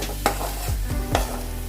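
Shredded chicken sizzles and fries in a pan for an Indian-style chicken varuval, with two sharp stirring scrapes standing out over the steady close hiss.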